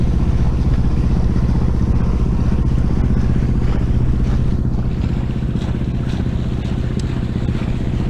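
Motorboat engine drones steadily and loudly under way on Lake Champlain near the Richelieu rapids, making about 11.4 knots, with wind buffeting the microphone throughout.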